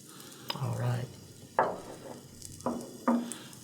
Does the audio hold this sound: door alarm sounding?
no